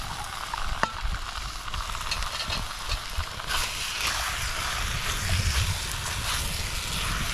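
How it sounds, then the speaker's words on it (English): Chorizo sausage and onion browning in a pan at an outdoor camp, a soft, continuous sizzle under wind noise with a few clinks. "we're going to brown that off"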